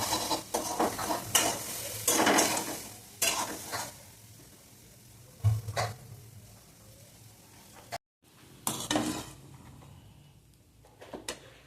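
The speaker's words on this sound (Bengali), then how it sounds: "আর এখানে সবজিটা ভেজে নিলে মিক্স করে দিলেই হবে।" Vegetables sizzle in a pan and are stirred in repeated scraping bursts of utensil against metal, with quieter frying in the pauses between strokes.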